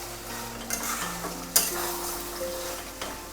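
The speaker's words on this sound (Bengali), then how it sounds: "মাংসটা দিয়ে মিনিট 5 ভালো করে কষিয়ে" Chicken pieces stir-fried in a pan for a Mughlai shahi korma, giving a soft continuous sizzle with occasional sharp clicks of a spatula against the metal. It is close but fairly quiet, with no voices.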